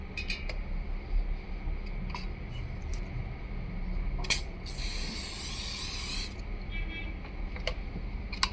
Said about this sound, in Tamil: இங்கே லைட்டாக நான் வந்து ஷைன் ஸ்ப்ரே பண்ணுறேன்